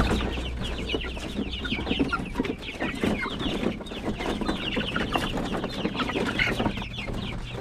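A flock of chickens eating a mix of azolla and feed clucks busily and continuously, many birds overlapping close by with soft pecking and no voices.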